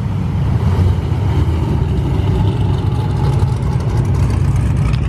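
Cammed car engine idling at a busy car meet, a deep choppy rumble with loping pulses and slight revving, loud and close throughout with no talking.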